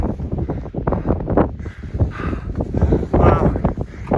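Wind gusting across a microphone on a steep hillside climb toward a Scottish munro summit around 1000 metres, a rough, buffeting roar rising and falling throughout with muffled voice-like bursts mixed in.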